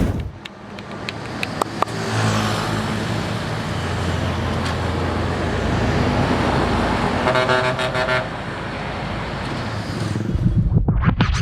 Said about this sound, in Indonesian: Nggak peduli sama kendaraan yang lalu lalang